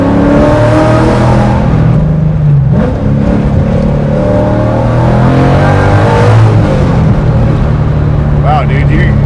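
Sports car engine of a Ford Mustang with a motor revving to 8,000 rpm and low rear gearing, a loud steady drone rising and falling while people talk inside the car.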